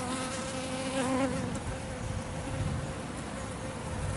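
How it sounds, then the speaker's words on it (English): Bees and other insects buzz steadily around flowers, a continuous close droning hum that swells and fades slightly as they move, with no voices. "And it's very curious when you watch a bee"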